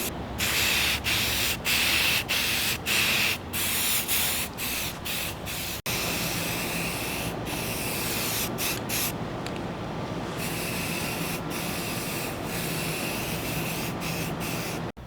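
A vehicle chassis frame is sprayed matte black with aerosol paint, close repeated hissing bursts at first, then one long sustained spray with brief breaks, no talking.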